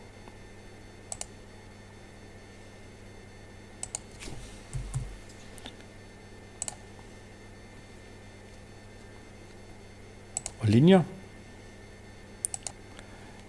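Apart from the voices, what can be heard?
typing on a computer keyboard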